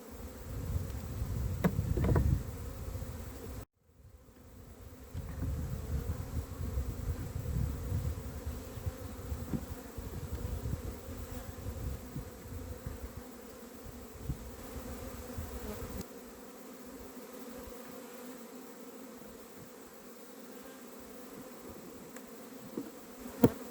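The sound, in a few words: honey bees around a nucleus hive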